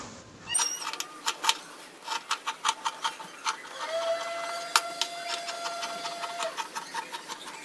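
Sewing machine stitching the edges of a doormat made from old cloth, giving irregular mechanical clicks and clacks with a thin whirring whine partway through, close and fairly quiet.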